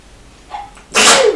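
A single sharp sneeze, loud and close, follows a faint breathy intake and short pause; no talking around it.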